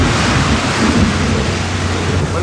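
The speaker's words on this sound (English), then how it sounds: "When the Canadians say it's going to rain, it rains." Heavy rain pours down on a road with a dense, loud, continuous roar and a low rumbling undertone, steady and unbroken all the way through.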